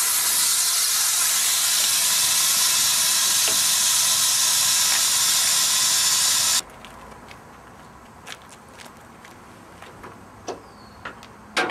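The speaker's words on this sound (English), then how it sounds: "And we'll drain the wet tank." Compressed air blasts out in a loud, steady hiss as a truck's wet air tank is drained, running about six and a half seconds before cutting off abruptly, followed by quiet small clicks and knocks.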